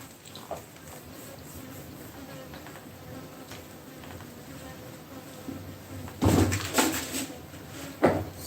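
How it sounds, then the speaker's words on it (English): Bees buzz steadily in the background at breakfast time, a continuous drone, with louder clattering knocks and bumps near the end; no talking. "Why is this bees making so much noise?"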